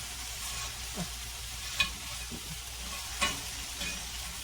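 Whole tomatoes sizzle in a hot skillet with a steady, even crackle, punctuated by a couple of sharp stirring scrapes, close by and with no voices.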